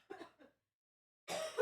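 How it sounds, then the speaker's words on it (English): Two short coughs land close to the microphone, then after a pause a louder, longer cough or throat-clearing bursts out. "I was trying so hard not to cough in the mic."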